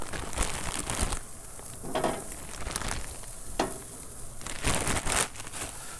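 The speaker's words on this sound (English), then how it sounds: "So let's get these on" Sausages, eight to a box, sizzle and crackle on a Weber charcoal grill, a steady close frying hiss with brief louder bursts as they are laid down, no talking.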